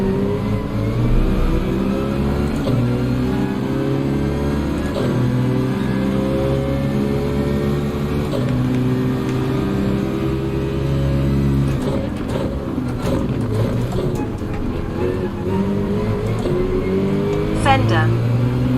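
Race car engines in the Gran Turismo video game, a Lamborghini and a GTR, drone steadily at high revs throughout, with rising and falling pitch as they accelerate, while someone talks over them.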